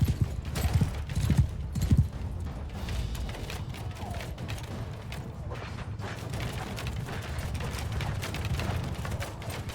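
Horses gallop in a Mount & Blade II Bannerlord battle, a dense rumbling clatter of hooves with mechanical clanking and creaks, steady and fairly loud throughout with no talk.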